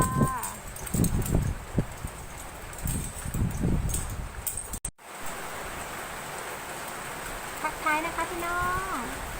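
Rain patters steadily in the background while someone talks in the first half; later a few short bird-like whistles sound over the hiss.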